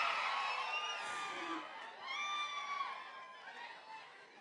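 A crowd at a movie glimpse launch event cheers and whoops in welcome, a loud, sustained mix of shouts and high cries near and all around, with no clear clapping standing out.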